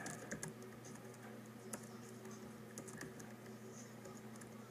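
Faint, irregular clicking of fingers typing on a computer keyboard in a house, quiet and steady under a low background hum.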